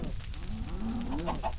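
A cow in the Minecraft video game lets out a single short, low moo over a steady background of game sound.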